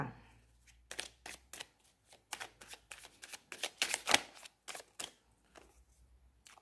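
Tarot cards being shuffled by hand, a quick run of soft, crisp riffling flicks in uneven bursts, close and quiet, with no talking.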